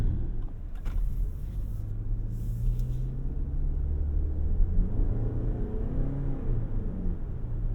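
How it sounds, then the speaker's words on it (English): A 2024 Lexus RX450h+ luxury AWD plug-in hybrid's engine drones while driving in hybrid mode, a steady low cabin rumble with a slightly raspy tone that swells gently under acceleration, with road noise beneath and no talking. "I will say the engine is a little raspy. It's a little loud for this price point."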